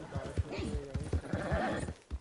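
Horse hooves clip-clop in Red Dead Redemption 2 in a quick, repeated rhythm under a layer of game sound and voices, with a neigh-like tone in the mix.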